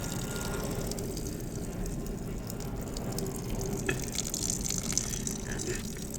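Green coolant draining and dripping from a Sniper MX135 motorcycle with the cap loosened, a steady trickle with a few sharper drips near the end, faint and close against a low background hum.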